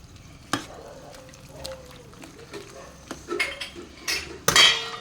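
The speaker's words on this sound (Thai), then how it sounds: "ใส่เห็ดนางฟ้าลงไปเลย" Oyster mushrooms tumble into a cooking pot with clattering metal and utensil knocks, a sharp bang near the middle and a louder clatter near the end, close and fairly quiet, no talk.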